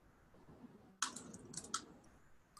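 Keys clatter on a computer keyboard during a coding session: after a second of quiet room tone, a burst of light, close clicks follows in uneven runs, quiet overall.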